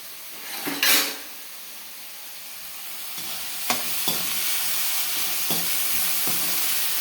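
Banana flower with drumstick leaves and eggs frying in a pan, a steady sizzle running throughout with a few stirring scrapes and clinks of a utensil against the pan, close and moderately loud, with no talking.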